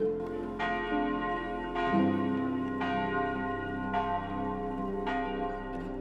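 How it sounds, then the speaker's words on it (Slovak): Four bells ring in a Renaissance bell tower beside St. George's church on a town square in Poprad, Slovakia, the bells dating to the mid-14th century; steady, evenly spaced strikes sound out over a sustained, humming resonance, with no voices. "doplňajú ju jej zvoniace 4 zvony niekedy z polovice 14. storočia"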